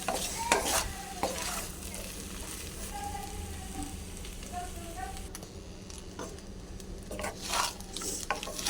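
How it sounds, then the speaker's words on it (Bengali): Leftover rice gets mixed in a sizzling pan with repeated scraping strokes of a utensil over a low frying hiss, with brief speech in between. "এটাকে মিক্স করে নেব ভালো করে।"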